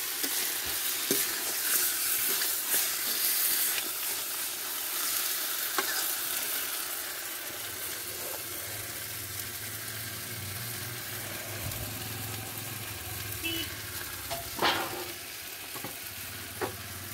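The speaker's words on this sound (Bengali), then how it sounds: "সিদ্ধ করে ভেজে নেব আলু।" Boiled potatoes fry in a pan with a steady, close sizzle and occasional stirring scrapes, continuous throughout with brief clinks near the end.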